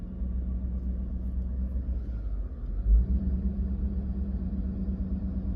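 Car engine idling, its speed raised through a KingBolen K7 diagnostic tool, a steady low rumbling hum with a brief thump midway, close and continuous.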